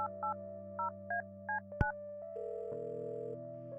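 A telephone number is dialed in the adventure game Kathy Rain: several short, evenly spaced keypad tones beep one after another, then a sustained line tone follows, clean and alone with no talking.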